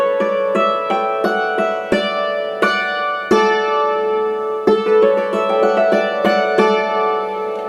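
Hammered dulcimer playing a quick run with the second cap, bright struck notes ringing out one after another in a steady rhythm, each strike sharp and leaving a shimmering sustain, close and alone.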